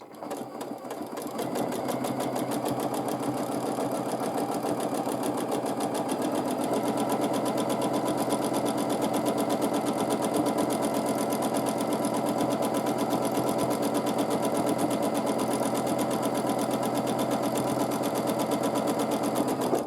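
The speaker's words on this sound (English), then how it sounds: "I'm quilting wavy back and forth lines" A sewing machine runs steadily for about twenty seconds while free motion quilting wavy back and forth lines, a fast, even mechanical hum close up with no pauses or talk.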